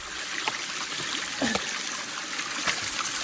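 A small forest stream tumbling from a waterfall gives a steady, close rush of flowing water with faint gurgles, running alone without pause.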